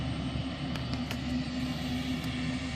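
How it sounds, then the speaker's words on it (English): A steady, broad engine drone with a low rumbling hum carries on without a break, like a helicopter over a rescue scene near a hiking trail, holding an even loudness throughout. "the chopper is moving on to the next thing"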